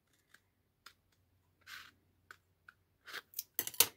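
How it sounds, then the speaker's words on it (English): Small scissors snip a scored cardboard toilet paper roll, with a few sparse single clicks followed by a faster burst of crisp cuts near the end, close and clear in a quiet room. "I'm gonna get up these smaller scissors and I'm gonna cut this where I do have both sides."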